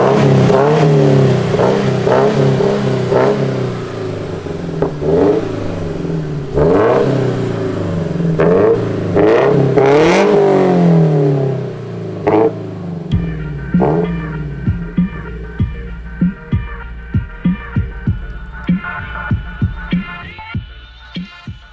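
A Subaru BRZ with a UEL catted header and Corsa exhaust revs hard several times nearby, a rumbling roar rising and falling, then settles into a burbling idle punctuated by sharp pops and blips.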